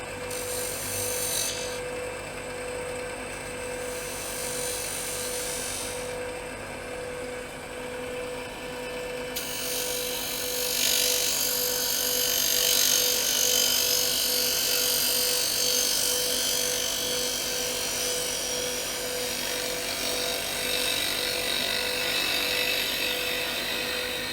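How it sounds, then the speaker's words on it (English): A 3/8 bowl gouge cuts a small end-grain wooden bowl on a lathe, making a continuous hissing scrape over the steady motor hum, with cuts starting and pausing before growing slightly louder. "Let's give the little 3/8 bowl gouge a try and see if that works any better here."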